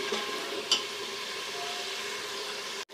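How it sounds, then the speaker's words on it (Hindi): Onions sizzle steadily in hot oil in a pan while chicken salan is being cooked, a dense, even crackling hiss with one brief sharp clink partway through and a sudden cut near the end. "अच्छा जी हमारी प्याज जो है वो फ्राई हो रही है अच्छी सी"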